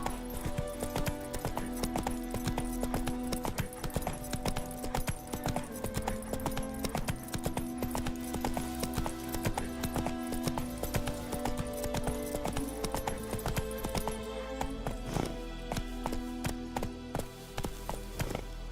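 Hooves of Roach, a horse in The Witcher 3, clip-clop in a steady galloping rhythm throughout, mixed under sustained game music with no talk.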